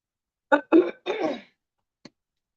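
Three quick, raspy throat-clearing bursts in a row, followed by a short faint cough-like catch after a pause; close and otherwise silent.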